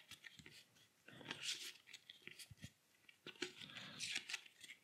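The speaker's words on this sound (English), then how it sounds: "We will shuffle up." A deck of Naruto Shippuden Village Defenders game cards is shuffled nearby, with quiet riffling bursts, crisp flicks and taps in uneven runs and pauses.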